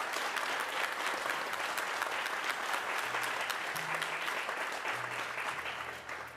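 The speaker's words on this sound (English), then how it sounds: "why don't we give your parents and all your friends here a round of applause for such support." Parents and friends in a concert audience give a steady round of applause, dense continuous clapping filling the hall and fading slightly at the end, with a few faint tones underneath.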